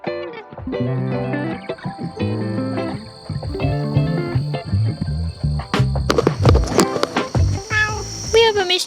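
A small stray tomcat meows a few times close by, its short calls mixed with a woman's chatter and soft household clatter.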